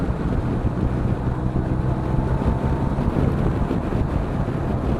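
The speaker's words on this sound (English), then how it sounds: "I've got my windscreen down, haven't I? That's why it's windy. It sounds windier than it normally does." Heavy, steady wind buffeting in an open car with the windscreen down, driven hard on a ride around Bury St Edmunds, a loud continuous low roar with no talk.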